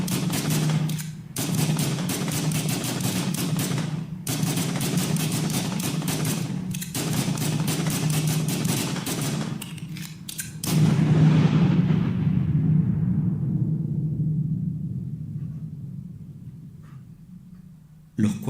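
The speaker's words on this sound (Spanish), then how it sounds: "Los 4 policías disparan 59 veces." A sustained barrage of rapid gunshots from four police officers, 59 shots, crackles nearly nonstop with brief gaps, then fades into echoing rumble.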